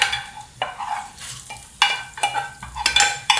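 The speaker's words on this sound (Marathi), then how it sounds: "आता मी फोडणी देते, गॅस बंद करते, फोडणीचं झाकण काढते, फोडणी देते" Spices are tempered in hot oil for curd rice, giving a steady sizzle broken by repeated clinks and scrapes of a spoon stirring in the pan, close up.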